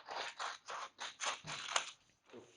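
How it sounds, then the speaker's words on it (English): Scissors cut paper in about seven rhythmic snips, crisp and close, quiet, with no talk over them. "since I have my scissors here, I'm just going to use them."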